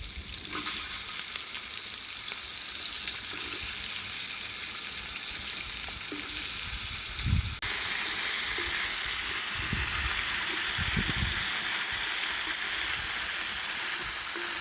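Potatoes sizzle in a frying pan, a constant crackling hiss with a few soft knocks, getting a little louder partway through.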